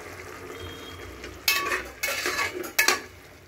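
A spoon stirs and scrapes sliced mushrooms with salt in a cooking pot for a mushroom biryani, in three sharp metallic bursts over a low background hiss, with no voices.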